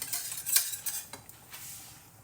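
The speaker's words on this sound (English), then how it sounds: "Just keep stirring it till it becomes nice and smooth." A utensil scrapes and clinks against a pan while chicken pesto sauce, thinned with milk, is stirred during cooking, with several light metallic taps over a soft continuous scraping.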